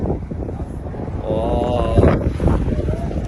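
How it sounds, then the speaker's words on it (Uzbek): Wind buffets the microphone in low rumbling gusts while a person talks outdoors. "Rosa shamol."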